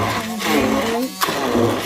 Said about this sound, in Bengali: ব্লেন্ডার দিয়ে